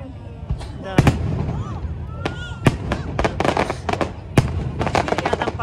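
Fourth of July fireworks burst over Marina del Rey, a boat-filled waterfront, in a rapid run of sharp booms and crackling pops, some near and loud, while people talk throughout.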